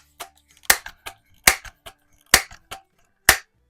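Crosman 760 air rifle, a repaired 1992 model, fired at a splatter-burst target: four sharp, loud cracks about a second apart, each followed by small clicks and target smacks, with no voices.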